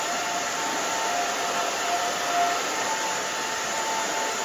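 A hair dryer blows steadily and close by while drying a short pixie haircut, a continuous even whoosh with no pauses and no talk.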